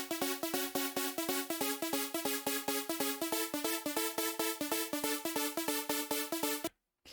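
A bright, repeating synth melody from a club remix pulses in steady, evenly spaced notes for several seconds before cutting off abruptly near the end.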